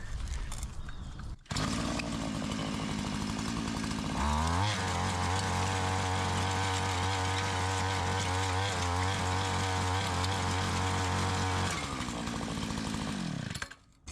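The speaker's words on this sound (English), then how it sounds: "little Tecumseh 2-stroke tiller" A small Tecumseh two-stroke engine on a little tiller fires up and runs at a steady, buzzy, high-revving drone, loud and close, for about ten seconds, then winds down and cuts out near the end, with no talk.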